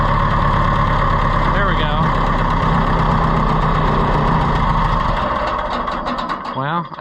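A small carbureted engine, hand-started and running without its choke, idles roughly and unevenly up close, with a loud continuous mechanical drone that sags and wavers toward the end while someone speaks briefly over it.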